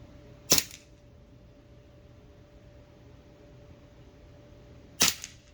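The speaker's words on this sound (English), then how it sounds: "Safety off, semi-auto, single shots." Two sharp, separate snaps from a Crosman PFAM9B air pistol shooting semi-auto single shots, spaced about four seconds apart over a faint steady hum.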